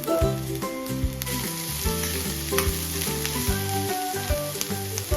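Green chillies fry in hot oil in a pan, giving a loud, steady sizzle throughout, with the clink of a stirring utensil and faint background music.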